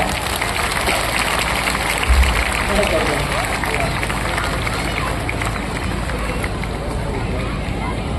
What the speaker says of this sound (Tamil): உங்கள் சார்பில் ஒரு கைத்தட்டலோடு